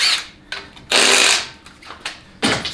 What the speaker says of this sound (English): you can go ahead and remove your pump to case bolts